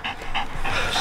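A dog pants hard and fast during bite suit training, breathy rhythmic huffs up close with steady ambient noise behind them and no voices.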